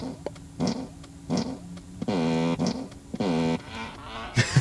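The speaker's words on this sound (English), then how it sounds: "you can fart on demand when you then press the steering wheel button" Tesla Model 3 fart mode novelty sound effect, triggered from the steering wheel button: a series of short, loud, buzzing blasts of varying length with pauses between them, heard alone.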